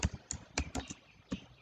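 Soft taps on a computer keyboard while entering a command in MATLAB/Octave: a handful of irregular, close keystrokes, fairly quiet, with one last tap after a short pause.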